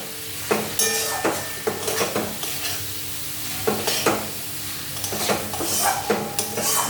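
Spice paste with Kashmiri chili and green chili paste sautéing in a pan, a low sizzle broken by repeated scraping strokes of a spatula at an uneven rhythm, close and alone.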